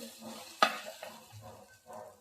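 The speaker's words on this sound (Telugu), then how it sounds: "వెజిటబుల్ అయితే జిగటగా లేకోకుండా లైట్గా ఫ్రై అయిపోయింది" Lightly fried okra being stirred in a pan: soft scraping strokes, a sharp spatula clank early on and quieter sizzling underneath, with no talk.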